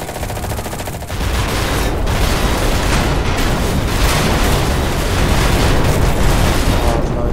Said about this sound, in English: someone just tried to throw a nade in my window